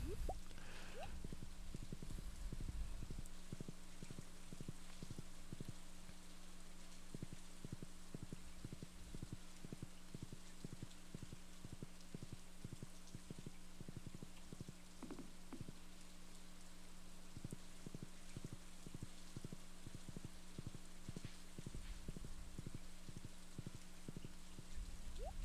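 In Stardew Valley, a horse's hooves clip-clop in a steady, even rhythm that runs throughout, faint against constant rain-like background noise.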